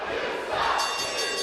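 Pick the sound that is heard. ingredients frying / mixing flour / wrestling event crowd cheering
wrestling event crowd cheering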